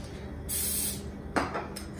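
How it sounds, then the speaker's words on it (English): Cooking spray hisses onto the bottom of a pan in two bursts: a longer spray, a pause, then a shorter, sharper spritz, close and fairly quiet in a home kitchen. "I'm also just gonna spray"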